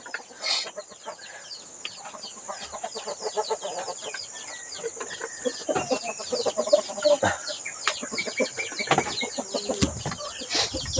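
Red junglefowl cluck repeatedly at close range, with short bursts of calls and a flurry of wingbeats against a steady outdoor hiss.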